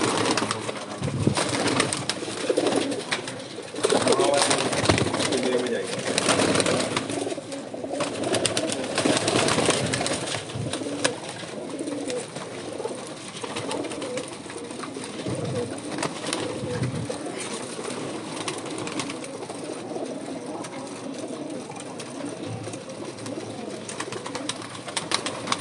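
Pigeons at a rooftop loft, including breeder hens, coo in a dense, unbroken low chorus close by, with occasional rustles and faint wing flutters mixed in and no talking.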